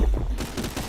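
Rapid bursts of gunfire from a shooter video game, a dense fusillade of overlapping shots lasting under a second, loud and close with no talk over it.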